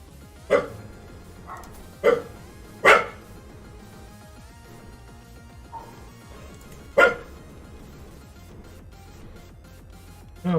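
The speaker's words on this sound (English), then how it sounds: "It's not time for barking." A pet dog named Sunday barks in a room during a video game stream, with about five sharp, loud barks spaced irregularly over a steady low game background.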